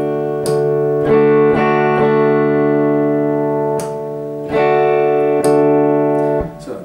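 Telecaster electric guitar with tapped pickup coils switched on, played clean and close: a series of strummed chords and single notes ring out with sustained, bright harmonics, each attack sharp, decaying slowly before the next.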